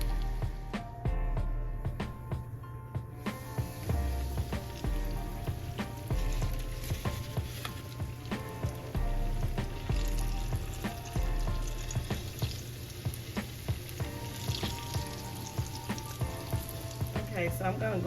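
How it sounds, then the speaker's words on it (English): Steady crackling sizzle of peach pies frying in hot oil, with scattered pops and light clinks throughout. "I'm gonna finish frying these pies."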